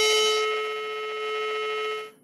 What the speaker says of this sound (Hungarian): 440 herces hang hallatszik